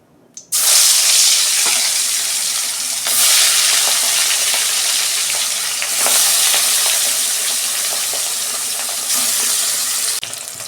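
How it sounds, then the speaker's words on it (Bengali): Fish fries in hot oil in a wok, giving a loud, steady sizzle that fills the whole stretch, with slight surges and a few crackling pops. "তেল গরম হয়ে গেছে, মাছটা ভেজে নিচ্ছি।"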